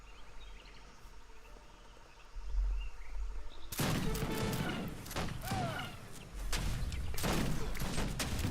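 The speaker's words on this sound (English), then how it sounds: "nice volley from Rommel. That's Grenadier volley there." Grenadier musket volleys from the game Age of Empires 3: a quiet low rumble, then a sudden dense burst of crackling gunfire with repeated loud blasts over a battle din.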